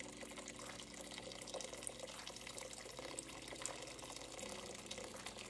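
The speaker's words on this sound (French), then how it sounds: "on va ajouter l'équivalent de 3 tasses d'eau" Water pours from a tap into a cooking pot for rice, a soft, continuous trickling and splashing heard faintly and close, with no voices.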